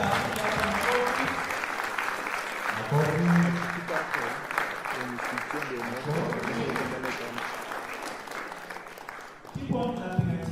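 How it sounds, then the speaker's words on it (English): Audience clapping at a graduation ceremony in a Nairobi hall, a dense sustained patter of applause with a voice audible over it near the end. "Keep on clapping until I have this next time."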